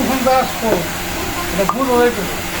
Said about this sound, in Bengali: ডালটা তো ওই যে কি সুন্দর হয়ে ফুটছে এই যে ডালটা ফুটার লাগে